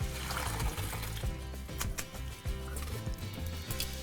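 Boiled orzo is drained from a cooking pot, water pouring and splashing steadily into a sink with clattering knocks of the pot throughout, fairly loud and close.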